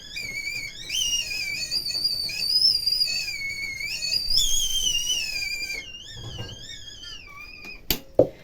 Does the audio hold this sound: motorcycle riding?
no